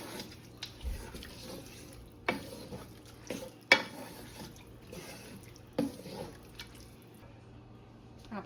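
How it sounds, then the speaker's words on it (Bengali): Haleem with mixed lentils being stirred in a pot, faint scraping and soft wet sizzling with intermittent clacks of the spoon against the pan, quiet and close. "ডালটা দিয়ে আরও কিছুক্ষণ কষাবো।"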